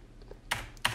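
A computer keyboard is typed on for a search, two sharp, close key clacks with a few fainter taps before them, in a quiet room.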